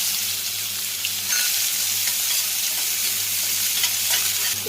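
Onion with whole spices sizzles in hot oil in a pan as the base of a chicken gravy, crackling steadily up close while a spoon stirs and scrapes now and then.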